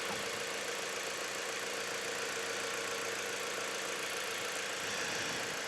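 A car engine idles just after a cold start, warming up at around 850 RPM, giving a steady, continuous mid-range hum with a faint rough knock throughout, close and alone with no talk.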